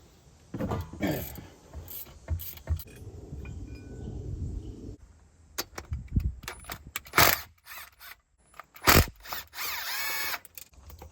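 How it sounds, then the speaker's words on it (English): A 3/8 ratchet loosens head bolts on a Yamaha Waverunner III 650 engine during a top-end rebuild, giving short clicking ratchet bursts and sharp metallic snaps, close and fairly loud, separated by pauses. "These head bolts are actually coming out with the 3/8 ratchet."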